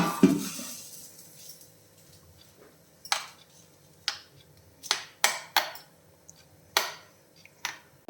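A spoon stirs fried tempering into coconut-free groundnut chutney in a bowl, making a brief soft rush at the start, then sparse, sharp metallic clicks and taps at irregular intervals against a quiet background.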